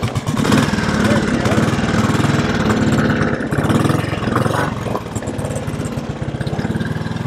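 A 1957 Royal Enfield Bullet 500 single-cylinder motorcycle runs loud and close while being ridden, a steady pulsing thump with shifting revs throughout and no clear break.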